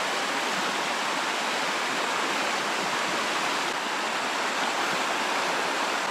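River water flowing beside a riverside swimming spot, a steady dense broadband rush that stays even and close throughout with no voices.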